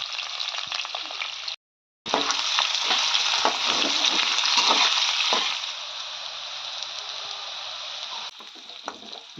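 Bay leaves and onions frying in oil in a pan, a steady close sizzle with crackling pops and stirring, briefly cut by a half-second of silence, then easing slightly quieter toward the end.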